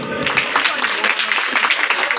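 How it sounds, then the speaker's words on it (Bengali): A crowd at a school quiz prize-giving for a student day event claps steadily and densely, close and fairly loud, while someone speaks over the applause. "জোরে করতালি।"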